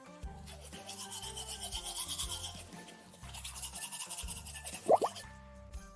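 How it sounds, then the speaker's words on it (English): Toothbrush scrubbing teeth in close, rhythmic strokes that pause briefly, with a faint spit or drip near the end and no talking. "Another hygiene habit is brushing your teeth after every meal."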